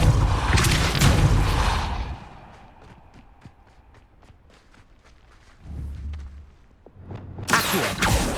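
A Depulso force spell going off in Hogwarts Legacy: a loud booming blast at the start, a short run of scattered lighter thumps and footfalls, then another surge of noise at the end.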